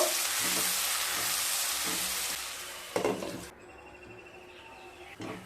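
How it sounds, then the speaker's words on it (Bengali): Two medium onions, ground to a paste, fry over medium heat in a pan for a bottle gourd dish, giving a strong sizzle that fades and cuts off partway, followed by a few stirring clinks. "পেঁয়াজটাকে মিডিয়াম স্টিমে হালকা ভেজে নেব।"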